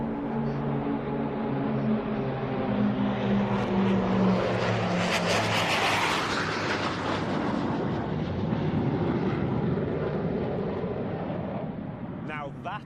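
Hornet jet aircraft rolling down the runway at an air show arrivals day, a loud sustained engine roar that swells and stays steady throughout, with a voice talking over it.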